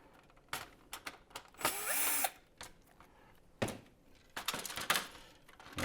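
A handheld power drill backs screws out of a control board from a flight simulator rebuild, giving short whirring bursts separated by pauses, with clicks and thunks from handling parts nearby.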